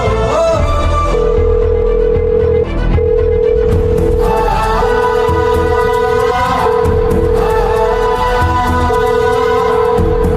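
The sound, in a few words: telephone ringing during a phone call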